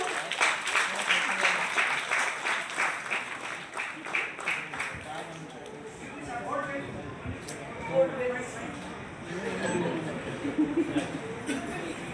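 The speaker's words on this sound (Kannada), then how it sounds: "ದಯವಿಟ್ಟು ಜೋರಾದ ಚಪ್ಪಾಳೆ ಕೇಳಿ ಬರಬೇಕು" Audience applause at a family celebration: dense, close clapping from a crowd that swells early, thins toward the middle, then rises again in scattered bursts, with some voices and laughter mixed in.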